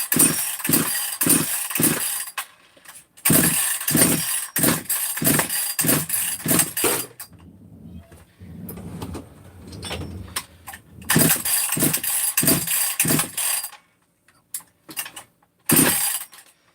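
A small two-stroke engine fitted with a 262 muffler is pull-started again and again. It catches briefly with bursts of revving and then stalls, with quiet gaps and fiddling between attempts.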